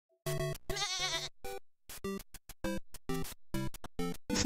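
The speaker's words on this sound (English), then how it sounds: "Oh, the sheep!" Sheep in a video game bleat in a quick series of short, bright, evenly spaced calls, one longer wavering bleat early on, loud and close with no other sound.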